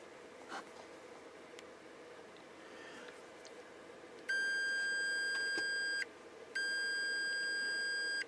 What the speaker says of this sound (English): Can you hear the beep?